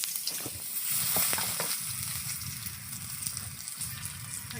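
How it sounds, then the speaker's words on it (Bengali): Dry red chillies and bay leaves sizzling in hot oil as a tempering for a mango dal, a loud, close, continuous crackling fry with occasional pops and no talk. "প্রথমে দিয়ে দিব শুকনো লঙ্কা আর তেজপাতা ফোড়ন"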